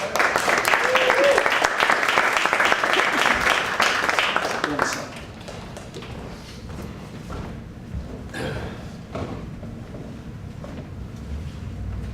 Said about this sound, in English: let's have an encouraging round of applause for Richard.